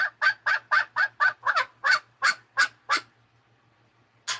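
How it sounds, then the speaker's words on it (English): A turkey gobbles and chirps in a rapid run of about a dozen loud, close calls over three seconds, then falls quiet before one more sharp call at the end. "Let's see if I can get it to gobble."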